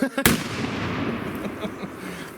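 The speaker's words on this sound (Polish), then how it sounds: "Huk petard" A Zena Colour Bang firecracker goes off outdoors with one sharp, loud bang, followed by a long rumbling echo and crackling tail, after a couple of smaller pops just before it.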